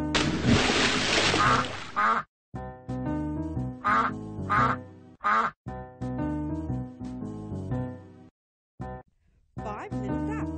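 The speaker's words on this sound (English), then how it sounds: "Mother duck said quack, quack, quack, quack" Cartoonish duck quacks from a children's iPad counting app sound in quick, loud bursts, separated by short silent gaps.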